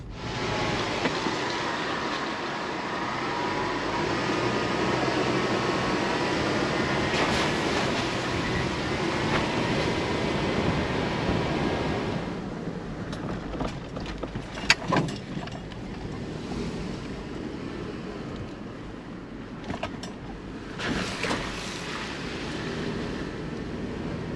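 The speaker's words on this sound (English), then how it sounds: "driving down this road, it's definitely not impossible for a 2-wheel drive" A vehicle rumbles and rattles down a rough dirt road on the way to the Stinson wreck hiking area, with a continuous engine and road roar heard from inside, occasional bumps and knocks, and no talk.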